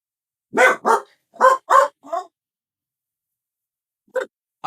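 Dogs bark indoors in short bursts: a quick cluster of five close barks, a pause of silence, then two more near the end.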